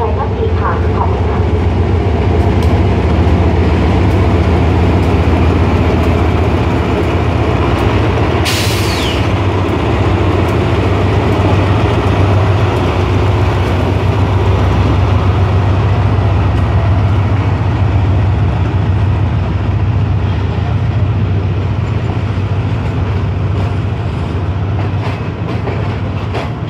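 A Thai railway train runs loud and close, its steady rumble and rail noise continuing throughout, with a sharp hiss of air released about a third of the way in.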